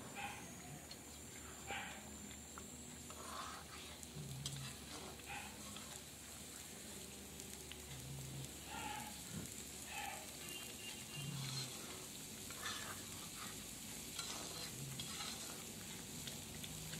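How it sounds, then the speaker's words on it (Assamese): Taro being stirred and cooked in a pan, a soft continuous sizzle with occasional scraping stirs, close and quiet throughout. "এয়া মোৰ কচুখিনি ধুনীয়াকৈ উতলি আহিলে আৰু কচুখিনি মোৰ প্ৰায় হৈ গ'ল।"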